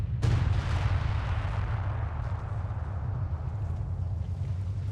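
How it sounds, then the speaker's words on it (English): A sector artillery barrage in Company of Heroes 2 aimed at a tank, opening with a sharp blast and continuing as a dense, rumbling roar of explosions and heavy low booms that lasts the full five seconds. "Sector barrage, as you can see, going after the tank."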